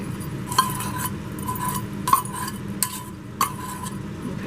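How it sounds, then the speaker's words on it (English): Cherry tomato and onion conserve with honey being stirred in a pot, a spoon scraping steadily with a few sharp clinks against the side, no voices. "we need to start stirring"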